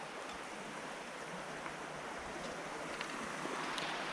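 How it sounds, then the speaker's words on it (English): Water spills out of a culvert below an old logging road into a creek, making a soft, steady rushing hiss that stays faint and continuous. "This is the culvert where the water comes down from the old logging road."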